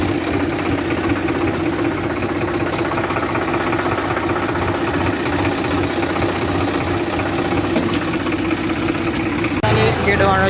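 A Swaraj 735 tractor pulling a cultivator through a field, its diesel engine running with a constant loud, throbbing drone close by, steady throughout with a slight shift near the end.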